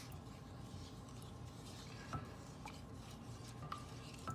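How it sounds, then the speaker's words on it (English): A spoon stirs a thick holiday sauce or gravy in a pot, giving a steady, quiet scraping and swishing with a few soft clinks against the pot's side, fairly close and alone. "I'm just gonna stir this up good until it gets"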